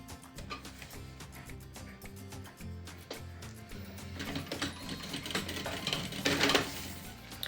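A sewing machine whirs in rapid mechanical bursts while stitching a seam on a preschool backpack, its needle ticking steadily and speeding up toward the end, with a faint melody playing underneath.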